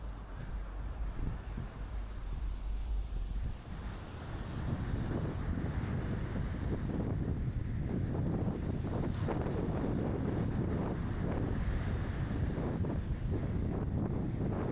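Steady wind buffeting the microphone on a beach, a continuous low roar with gusts and some surf beneath, loud and close with no talking.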